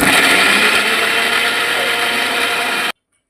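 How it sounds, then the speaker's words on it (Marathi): A kitchen mixer grinder blending onion, tomato and roasted peanuts runs with a loud, steady, close whirring roar for about three seconds, then cuts off abruptly into silence. "तर आता इथं आपण मिक्सर लावू."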